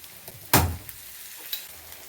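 Chopped tomatoes dropped into a hot pan of fried onion and potato, giving one sharp burst of sizzling that quickly settles into a quiet, crackling fry.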